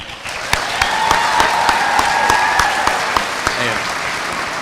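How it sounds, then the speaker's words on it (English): Steady applause from a crowd at an adult school graduation ceremony honoring the graduates, dense continuous clapping with occasional sharper claps, fairly loud and close, with some whistles or cheers mixed in. "can we give a round of applause for our graduates right here?"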